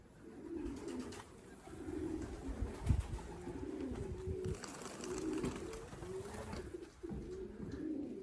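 Racing pigeons coo at a backyard pigeon loft, with repeated soft, throaty low coos layered over one another in an ongoing murmur, plus occasional light thumps and rustles nearby.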